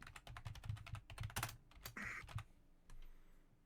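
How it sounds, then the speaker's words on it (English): Fast typing on a computer keyboard, close and crisp. Irregular bursts of key clicks and a few heavier thumps fill the first two and a half seconds before fading to quiet, with no talk. "I hear typing."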